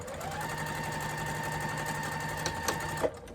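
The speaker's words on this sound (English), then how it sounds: "I am sewing through the center" A sewing machine runs steadily, stitching through fabric layers of a bowl cozy, a continuous close motor whir with rapid needle rhythm that ends in a few sharp clicks as it stops.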